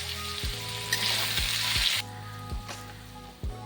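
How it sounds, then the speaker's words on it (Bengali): Onions salted and frying in a single pan for chicken rice sizzle steadily up close, with a few sharp clacks of a spoon stirring through them. "পেঁয়াজগুলো একটু লাল করে ভাজতে হবে।"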